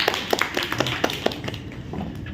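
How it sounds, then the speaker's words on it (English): Audience applause at an Inner Wheel Club of Delhi Umang gathering, a short burst of scattered hand claps that thins out and fades over about two seconds, with no talking over it. "So big claps for all."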